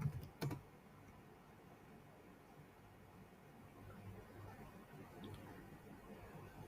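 Someone types a search on a computer keyboard during Etsy product research. A few quick, close key clicks come first, then a low steady background hiss.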